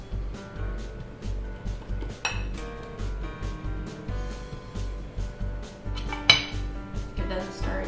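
Metal utensils scrape and clink against a bowl while thick, syrupy batter of sugar and eggs for Buffalo bleu tailgate bars is stirred, a steady close clatter with a sharper knock near the end.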